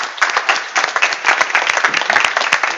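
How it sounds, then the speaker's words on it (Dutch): A theatre audience gives a warm round of applause at the start of a live Dutch talk programme, dense and steady clapping close to the listener with no voices over it. "Maar eerst graag een warm applaus voor Ed Groot en Peter Kavelaars."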